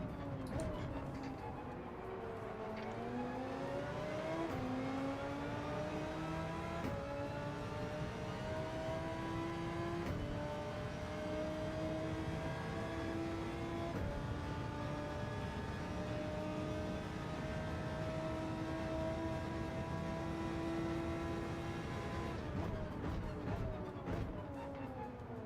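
Race car engines in the Gran Turismo 7 racing game, a pack of cars on soft tires rising and shifting through gears in repeated climbing whines, loud and continuous with several engines layered together.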